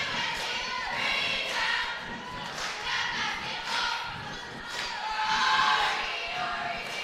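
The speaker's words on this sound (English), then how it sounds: "You can hear the Tipton crowd." Tipton fans cheering and shouting in a high school gym during a girls' basketball game, a continuous roar with swelling peaks and occasional thuds, fairly loud and sustained.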